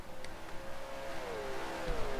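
A race car engine during a Nortex Cup road race in Montreal drones loudly, its pitch rising and then sweeping down as the car passes, with no talk.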